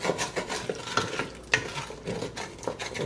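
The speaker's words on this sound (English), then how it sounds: "now is a good chance to scrape everything up off the bottom" A utensil scrapes and stirs across the bottom of a pan while a savoury beef dish cooks, giving soft irregular rasping strokes over a faint sizzle, close and quiet, with no talking.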